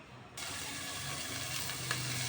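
Squash and string beans sauté in olive oil with leftover fried fish added, and a steady, fairly faint sizzle starts abruptly and keeps going evenly.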